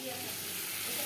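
Chopped tomato and green chili fry in a pan with a steady, close, dense sizzle that holds evenly throughout without a break.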